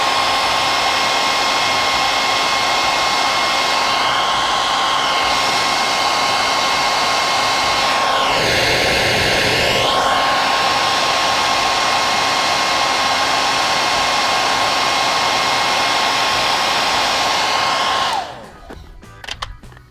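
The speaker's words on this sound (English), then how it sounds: "we're gonna heat that just a little bit more around the lock thing" A heat gun blows steadily and loudly while warming vinyl wrap around a car door lock, its continuous airy roar running nearly twenty seconds before cutting off abruptly near the end.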